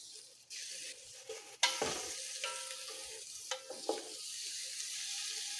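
Red pepper sizzling and frying in a pan while it is stirred, steady hiss with a few scraping stirs, close up and alone, cooking for an Italian pasta dinner.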